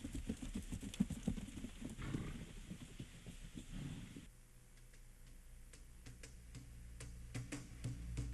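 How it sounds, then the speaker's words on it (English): Peruvian paso horse stepping in its smooth gait in Trujillo, Peru; a run of quick, rhythmic hoof clicks, moderately close but faint, continuing steadily against a low background. "appreciate the elegant gait of its famous paso horse"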